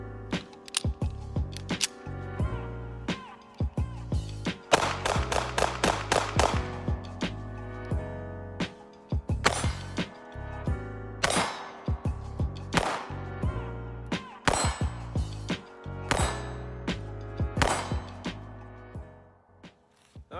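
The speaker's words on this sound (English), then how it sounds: "Gotta have a mag dump." Taurus G2s pistol emptied in a rapid mag dump: sharp, loud shots cracking in quick bursts across the stretch, with brief pauses between volleys and no talking.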